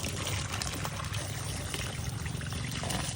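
Clear spring water at a lakeshore spring pours and trickles steadily outdoors, a close, continuous splashing stream with no talk over it.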